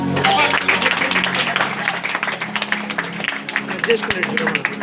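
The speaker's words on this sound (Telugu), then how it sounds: "తండ్రి యొక్క చప్పట్లు కొట్టాలి" A crowd applauds with sustained clapping at a Christmas celebration in Mahabubabad, India, while voices talk over it, the applause lively and continuous from start to finish.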